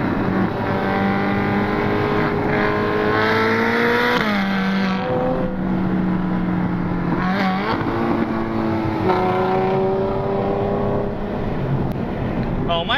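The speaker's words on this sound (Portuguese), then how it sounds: "Ferrarizinha é forte, hein?" Ferrari sports car engine revving loudly nearby, its pitch climbing and dropping through several sustained rises over a continuous engine drone, with faint voices underneath.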